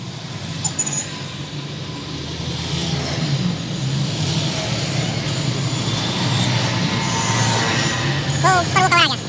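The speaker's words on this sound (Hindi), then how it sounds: "मतलब इंजन में से आवाज़ आ रही है?" A broken-down Tempo vehicle's engine drones steadily and loudly up close on the roadside, with a continuous low rumble and some rattling, while people talk over it.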